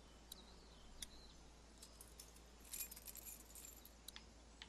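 Keys picked up from a dead cop in The Walking Dead game, faint light metallic jingles and clinks scattered over a quiet low hum.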